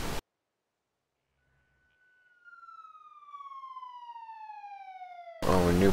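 A single police car siren tone in Emergency 4 with the Montana Mod rises then slowly falls in a long wail, fairly loud and alone after a brief silence, cut off by a burst of other sound.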